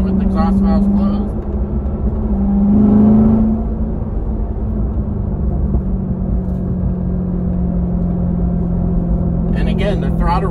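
A C7 Corvette engine with a performance air filter hums steadily with a brief swell of revving acceleration near the start, then settles into a smooth cruising drone.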